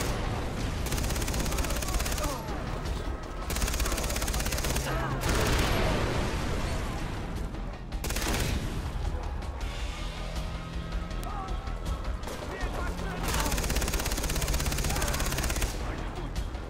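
Machine gun fire rattles loudly and almost without a break in Far Cry 3, with heavy bursts and impacts layered over a busy battle din.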